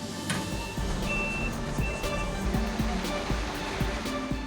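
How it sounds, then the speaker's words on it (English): Wet concrete pours and churns into a mold at a prefab construction factory in Taiwan, a steady loud rushing wash with scattered clanks and tonal machine whines over a low rumble, continuous throughout. "As the concrete is poured into the mold"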